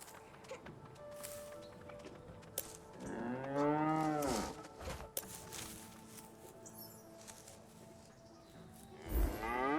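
A cow lows in the video game Sintopia, one long drawn-out moo in the middle and a shorter one near the end, set against quiet game ambience with scattered clicks.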